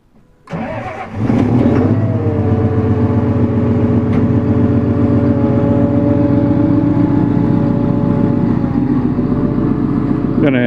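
A vehicle engine at a logging site cranks and catches, then settles into a loud, steady close-up idle that runs on unbroken for several seconds.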